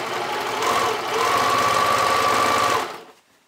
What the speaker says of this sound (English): using a zigzag stitch still, just going to top stitch that in place